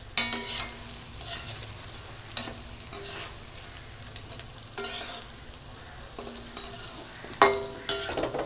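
Pumpkin fritters fry in hot oil, giving a soft, steady sizzle broken by a few scraping, clinking stirs of a utensil against the pan.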